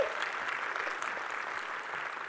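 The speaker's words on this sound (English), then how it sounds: "We need a round of applause for the people who write that." Steady audience applause fills a conference hall after a talk on migrating a large legacy app to Vue, a dense, even patter of many hands clapping throughout without pause.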